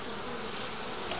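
Honeybees buzz densely at an open hive during a colony inspection, a steady, close, continuous hum of many wings with no talk over it.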